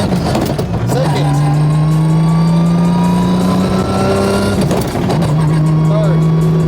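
A 1500hp Toyota Supra pulls hard through second gear, its loud, close engine drone rising steadily in pitch between brief breaks near the start and end.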